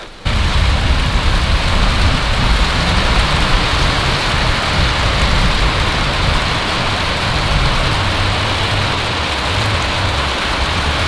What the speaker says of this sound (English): it's raining, which is great